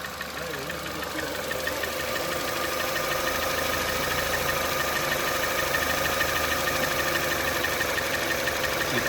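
A Chevrolet bi-turbo engine left idling, a steady, close mechanical drone with a knocking, vibrating texture running continuously with no clear voices.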